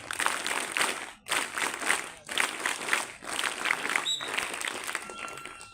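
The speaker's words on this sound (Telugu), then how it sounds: "scout clap go" Tenth-grade students at a high school event give a scout clap: several short bursts of rhythmic group clapping separated by brief pauses, fairly close and lively.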